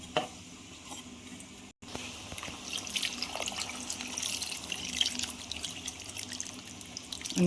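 Water is poured into a pan of spiced prawns to make a gravy for a prawn and potato salan. The stream gurgles and splashes steadily for several seconds after a brief pause near the start.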